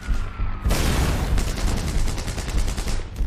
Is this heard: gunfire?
yes